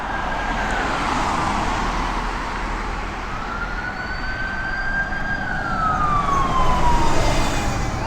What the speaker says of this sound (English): Every time you do a video in Blackpool, there's a siren.